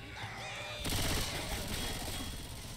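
Automatic Uzi fire in the zombie shooter Left 4 Dead 2, a dense burst that starts abruptly partway through and rattles on loudly over game sounds and noise.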